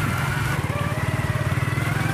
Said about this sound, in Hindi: तो थोड़ा बाइक को चलाना इन रास्तों पे थोड़ा सा मुश्किल हो जाता है।